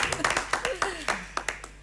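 Studio audience on a televised quiz show clapping in short, loud, uneven bursts, with a voice talking over the claps.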